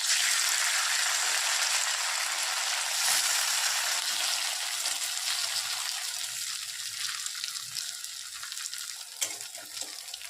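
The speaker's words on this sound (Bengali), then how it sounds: "এখন এটা ভেজে নিচ্ছি" Banana flower dhoka (mochar dhoka) frying in a pan, a steady broadband hiss and sizzle of oil, close and fairly loud, fading slightly toward the end, with a few small pops and no talking.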